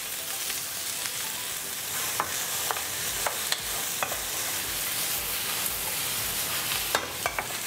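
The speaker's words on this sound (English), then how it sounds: "Next, we will put in the onions, the capsicum, and the leeks that we have prepared earlier on." Onions, capsicum and leeks frying in hot oil, a constant loud sizzle with occasional light stirring clicks and scrapes throughout.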